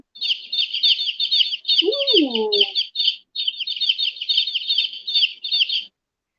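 A toy noise maker plays a long run of rapid, high chicken peeps with a brief gap midway, while a lower squawk-like cluck overlaps near the start of the second stretch. The sound is close and clear, and one short exclamation is heard.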